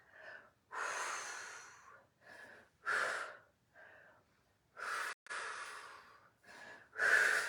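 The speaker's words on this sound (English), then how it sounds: "Nice controlled breathing when we're working abs. Exhale all that air out." Controlled breathing during an abs workout: a series of about nine sharp, forceful exhales and gasping breaths in an uneven rhythm, close and loud, separated by brief silences.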